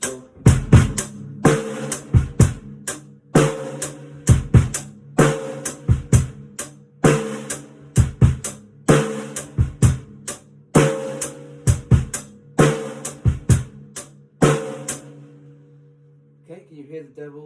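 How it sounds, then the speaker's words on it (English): A drum kit plays a groove with double bass drum sixteenths as part of an advanced tutorial. Loud, close strikes and cymbal crashes come in a steady driving rhythm for about fifteen seconds, then stop, leaving near silence. "we're going to be doing double bass drum 16ths"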